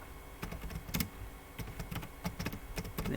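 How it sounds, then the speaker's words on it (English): Quick bursts of keystrokes on a computer keyboard as text is entered into a web form field, close and clicky with irregular rhythm, over a low background hum with no talk. "So in the text area you can type anything like"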